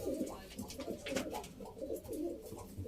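Domestic pigeons cooing steadily nearby, a loft of Arab pigeon chicks raised at home, with overlapping soft throaty coos and occasional wing rustles throughout, no speech.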